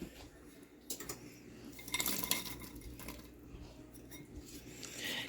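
Spoon stirring beans into beef stew in an Instant Pot pressure cooker, a series of close metallic scrapes and clinks against the pot with a soft wet churn, busiest in the middle, with no talking.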